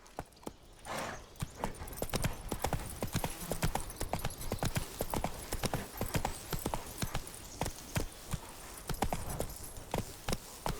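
Roach, the horse in The Witcher 3, gallops with fast, rhythmic hoof clip-clops on the ground, close and continuous, with a brief snort or whinny near the start.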